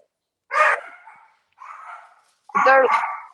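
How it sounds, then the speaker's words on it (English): A pet dog barks indoors in a condo: three sharp barks, the first and last loud and close, the middle one softer. "sorry, that's my dog."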